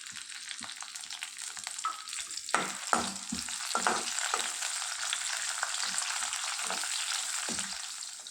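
Onion pieces frying in oil with chilli, curry leaves, cumin, mustard seeds and dals, a steady close sizzle broken by a few stirring scrapes and knocks against the pan.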